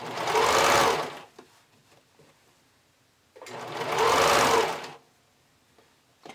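A sewing machine stitches binding along the edge of a strappy bikini top in two sustained bursts of running stitches, separated by a quiet pause.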